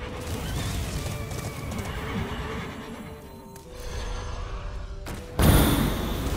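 Dread Steed horses neigh in the card game Hearthstone. A whinny sits under game sounds and music, and a sharp thud near the end is followed by a loud burst of effects.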